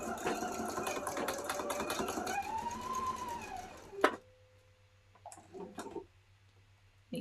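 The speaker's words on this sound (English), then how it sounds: "we're just going to sew that edge until we have our patchwork" A home sewing machine stitching a patchwork edge: a fast, steady mechanical whir of rapid needle strokes that stops abruptly, followed by a few soft clicks and fabric handling in near silence.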